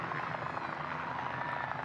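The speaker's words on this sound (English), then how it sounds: "Tell them to stop the play so we can see this helicopter coming." Helicopter flying in over a 2004 high school football game, a steady, fairly loud rotor and engine roar that holds throughout with no talking over it.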